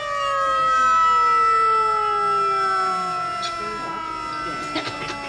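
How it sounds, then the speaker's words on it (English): A loud, wailing siren sweeps downward in pitch, dominating the scene, with brief muffled noises near the end. "God, I wish they turned that bloody siren off"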